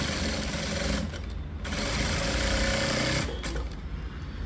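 Sewing machine stitching a lining blouse in a tailoring class, a close steady mechanical whir running nearly continuously with two brief pauses, no voices.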